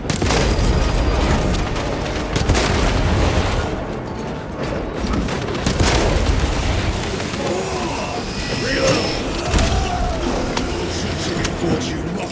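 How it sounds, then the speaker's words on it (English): Frag grenade blast in the Warhammer 40,000 game Space Marine 2, a booming explosion inside dense, continuous combat noise with voices talking throughout. "Frag grenade deployed!"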